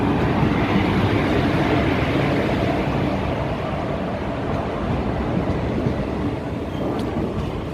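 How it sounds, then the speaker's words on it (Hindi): The Jabalpur Pune Express train at Jabalpur station gives a steady, loud rumbling roar of rolling wheels and carriages, continuous and close throughout. "वर्तमान में आप देख रहे हैं यह है जबलपुर पुणे एक्सप्रेस"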